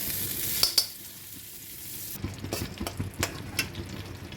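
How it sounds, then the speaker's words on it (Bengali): Butter melting and sizzling in a wok for chicken white sauce pasta, a soft steady hiss with sharp utensil knocks early on, then a rougher sizzle with several clicks and scrapes, no talking. "এবার 2 বড় চামচ বাটার নেব কড়াইতে"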